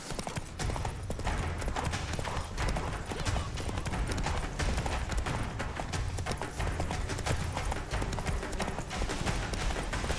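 Horse hooves galloping in the video game The Witcher 3: Wild Hunt, a rapid, continuous clip-clop rhythm held close and steady throughout, with faint game ambience beneath.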